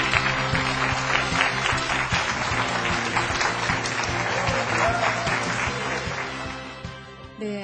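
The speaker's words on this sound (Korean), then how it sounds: "힘찬 박수 부탁드리겠습니다" Sustained audience applause greets a CEO lecturer, Daebo Shipping's CEO, at a televised lecture event: dense, steady clapping from a large crowd that fills the whole stretch before easing slightly near the end.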